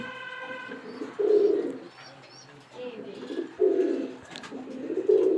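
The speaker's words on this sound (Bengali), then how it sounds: "মিয়ানাজির থেকে আনা যে গোল্ডেন পেয়ারের মাদি কবুতরটা রুকু ভাইয়ের স্পেশালি বেশি পছন্দের" A female Golden pair pigeon coos in repeated low, throaty bursts, several rounds close by, with faint background voices and other birds around.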